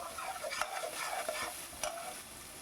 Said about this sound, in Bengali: ততক্ষণ আমি একটু নাড়ি চাড়িয়ে নিচ্ছি